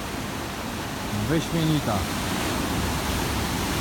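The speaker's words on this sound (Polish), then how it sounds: "Fale też są niezłe." Surf rolls onto Kata Noi beach on Phuket, a steady full wash of breaking waves heard close and continuous, with a brief spoken word over it.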